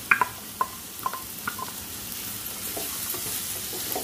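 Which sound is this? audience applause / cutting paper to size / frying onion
frying onion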